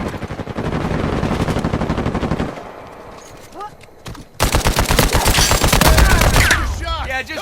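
Rapid automatic gunfire rattles through an Uncharted 4 multiplayer match in long dense bursts, breaks briefly amid scattered shots and effects, then resumes loud and sustained, with voices occasionally talking over it.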